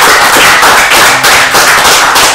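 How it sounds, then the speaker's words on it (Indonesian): Audience applause at an interactive dialogue event, a dense, steady wash of many hands clapping loudly and continuously throughout, without speech. "minta tepuk tangannya dulu dong"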